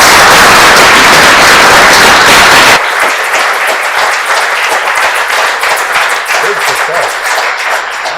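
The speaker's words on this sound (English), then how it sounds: "let's give Bill one more round of" An audience at a lecture on black holes and dark matter applauds a speaker, with loud dense clapping that drops to a thinner, quieter round partway through.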